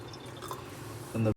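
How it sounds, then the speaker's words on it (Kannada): Water trickles and drips into a new dishwasher as a measured 200 ml is added, a soft continuous pour with a louder, fuller splash near the end. "ನೀರು ಹಾಕ್ತಾ ಇದ್ದೀವಿ ಟೂ ಹಂಡ್ರೆಡ್ ಎಮ್ ಎಲ್"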